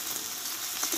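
Spice masala with salt and turmeric sizzles as it is stir-fried in a pan, a soft continuous frying hiss with faint stirring scrapes, close and quiet.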